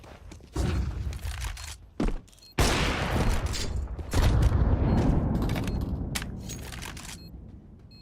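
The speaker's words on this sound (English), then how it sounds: "Throwing flashbang." A flashbang grenade thrown and exploding in a video game: a few sharp thuds and clicks, then a loud, hissing blast that rumbles on for several seconds, with further sharp game shots and clatter around it and no talk.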